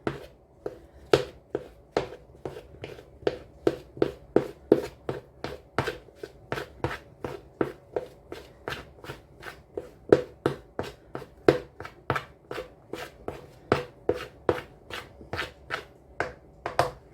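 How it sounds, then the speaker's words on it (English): A knife taps steadily on a cutting board chopping butter into small pieces, dozens of crisp chops in an even rhythm, close up with no talking. "Now I'm chopping the butter up into small pieces"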